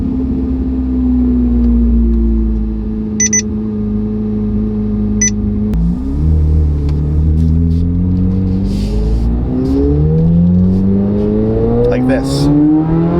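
A Corvette C8 Z06 starts up warm after sitting in the sun, the engine catching with a loud rumbling burst, then settling into a deep idle that rises and falls in pitch with blips, a couple of short electronic beeps early on.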